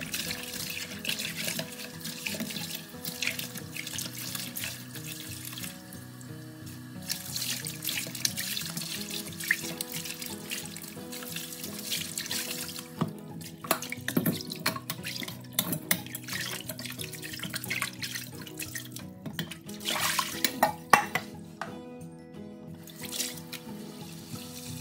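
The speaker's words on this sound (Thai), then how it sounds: "ต้มเสร็จแล้วก็เอามาล้างน้ําเย็นจ้า ใส่น้ําเย็นน้ําในกอกเฮานี่ล่ะจ้า" Cold tap water runs steadily into a sink while boiled chicken feet are rinsed, with a continuous soft splashing and trickle and scattered drips and clinks across the whole stretch, with no talking.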